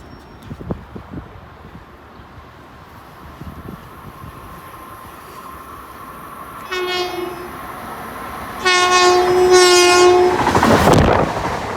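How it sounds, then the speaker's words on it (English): A passing commuter train at Westbury station rumbles and clatters, then its engineer sounds the horn in a short blast followed by a longer, louder salute, close and loud over the rolling wheels. "I got a little horn show from the engineer"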